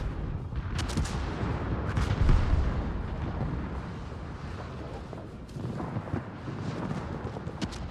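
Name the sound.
battleship gunfire in World of Warships video game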